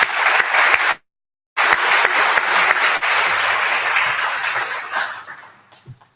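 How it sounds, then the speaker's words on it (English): An audience at a 2015 city candidate forum in Madison applauds with loud, steady clapping that breaks off briefly near the start, then resumes and gradually fades out. "So I, for one, would like to give you all a round of applause."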